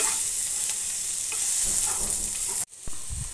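Spices, red Byadgi chilli powder, ground fennel and coriander powder, sautéed in a pan, a bright continuous sizzle with scraping stir strokes that cuts off briefly near the end, then resumes.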